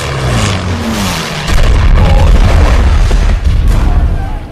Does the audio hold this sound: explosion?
yes